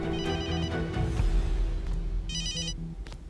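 A telephone rings in a Turkish drama scene with repeated short ringtone bursts over a low background hum, fairly close and with no voices.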